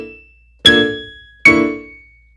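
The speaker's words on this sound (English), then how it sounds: "if you play some notes outside the scale, it might sound like this" Two separate jazz piano chords with notes outside the scale ring out, each struck cleanly and left to decay in near silence, with no talking.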